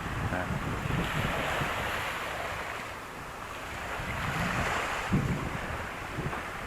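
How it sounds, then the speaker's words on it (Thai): Waves wash steadily onto a long sandy beach in a sheltered cove where fishing boats moor, a continuous surf roar rising and falling with heavy wind buffeting the microphone and no clear talking. "หาดทรายสวยจริง ๆ"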